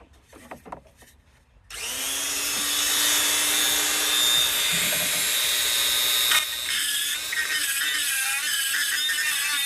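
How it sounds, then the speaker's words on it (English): After a few faint knocks, a die grinder whines into a steady high-pitched cutting run on an intercooler mounting part during a Mishimoto intercooler install on a 2014 Ecoboost, its tone shifting briefly near the end. "let me go grab my die grinder and we'll cook that out real quick"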